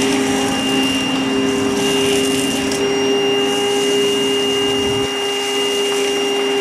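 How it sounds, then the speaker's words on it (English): A portable vacuum runs steadily while cleaning straw and debris out of a combine, a loud continuous whine with a constant motor tone and a slight drop in pitch and level near the end, with no speech. "You have a portable vac?"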